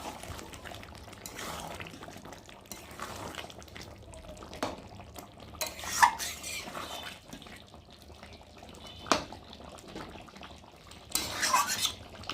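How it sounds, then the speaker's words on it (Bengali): Chicken being stirred in a pan after garam masala is sprinkled in: soft scraping and clinks of a spoon against the pan, faint and intermittent over quiet background noise. "গরম মশলা গুঁড়ো ছড়িয়ে দেবো দিয়ে একটু ভালো করে নেড়ে নেবো"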